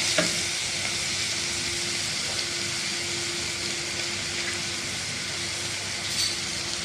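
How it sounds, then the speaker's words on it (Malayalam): Onions, green chillies and curry leaves for a crab curry sizzle and fry steadily in a pan, a constant hiss with occasional stirring scrapes, close and moderately quiet, no talking. "ഇതെല്ലാം കൂടി ഒന്ന് ഇളക്കി ചെറിയ മാതിരി ഒന്ന് വഴറ്റി എടുക്കാം"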